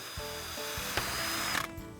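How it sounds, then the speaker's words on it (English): A power drill bores clearance and pilot holes into an aluminum channel for a garden arbor hinge, a close whirring motor with a sharp bite of metal contact near the middle and a clattering burst before it stops. "First, I drill screw shaft clearance holes, followed by pilot holes into the aluminum channel."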